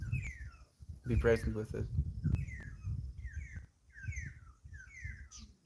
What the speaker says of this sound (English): listening to the birds today